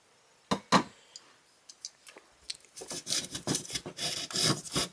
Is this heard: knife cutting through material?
yes